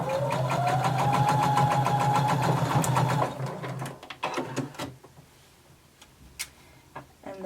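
A sewing machine runs steadily for about three seconds, sewing a 3/8-inch seam allowance on a garment. It has a rapid ticking stitch rhythm over a motor hum, then stops, and a few scattered clicks and handling sounds follow.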